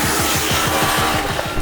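A 2024 KTM Duke 250 motorcycle engine in fourth gear rumbles steadily and loudly with a fast, even pulsing under heavy wind roar, close to the rider and with no talk.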